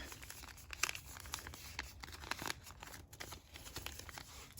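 Paper folded into a fortune teller makes soft, close crinkling and creasing sounds in short bursts, with a few sharper crackles.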